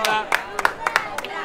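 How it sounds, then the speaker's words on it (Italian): At an awards ceremony for a 2019 Sant'Anna footrace, a small group gives scattered, sparse claps for a young girl who won. The claps are light and irregular, with a few distinct hand claps over a quiet room. "Un applauso per la piccola Sara."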